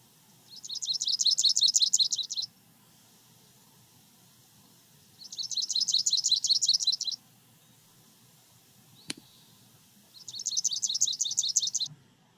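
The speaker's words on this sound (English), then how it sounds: "Palm warbler." Palm warbler song: three bursts of rapid, high, buzzy trilled notes, each lasting about two seconds, separated by pauses, clear and fairly close against quiet background.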